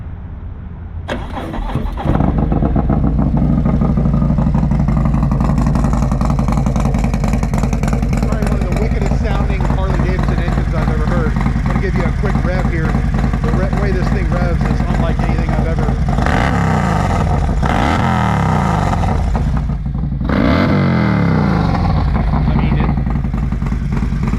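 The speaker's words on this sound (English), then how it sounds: "I wouldn't think a Harley-Davidson could rev that quick" A 2019 Harley-Davidson CVO Street Glide with a 131-inch Screamin' Eagle V-twin fires up and idles before being blipped in quick, sharp revs. It is loud and close, and someone talks over it.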